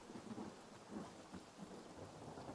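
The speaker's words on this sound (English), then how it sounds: "Yeah, and then it started raining." Rain falls steadily in the video game Hytale, with low rumbling thunder beneath it; a soft, continuous wash at fairly low volume with no voices.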